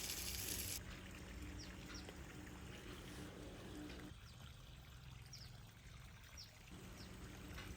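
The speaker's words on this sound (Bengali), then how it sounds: "লঙ্কা গাছে জল দিচ্ছি।" Water pours and trickles steadily onto chili pepper plants with curled leaves in a home garden, outdoors, with faint birdsong and chirps in the background and a brief pause in the flow.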